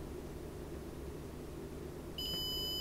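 A multimeter set to continuity mode sounds a steady, high electronic beep that begins abruptly near the end, standing out over a low background hum while testing wiring on a Creality Ender 3 3D printer during fault diagnosis.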